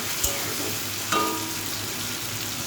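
Spice paste sautéing in oil for chicken curry, a soft steady sizzle close by with a couple of light clinks from stirring.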